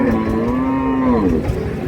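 A dairy cow of an improved breed gives one long, loud, close moo at a crowded livestock market, the Raniganj haat, where cows and calves are sold.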